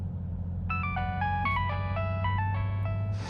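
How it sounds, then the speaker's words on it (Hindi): A phone ringtone plays a bright electronic melody of rising and falling tones, fairly clear over a low steady background hum. "तुम्हारा फोन बज रहा है, उठा लो फोन"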